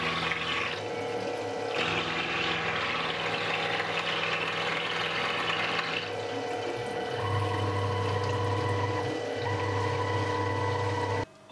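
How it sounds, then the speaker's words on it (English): Coolant being topped up on a running milling machine: a steady watery pour and pump-like flow over a constant low machine hum with tonal whine, continuous and fairly close, no voices. "I'll top up the coolant and we'll catch up later."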